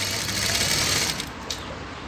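Sewing machine stitching double cord piping, giving a fast continuous mechanical whirr that runs steadily, then slows and stops near the end, close and alone.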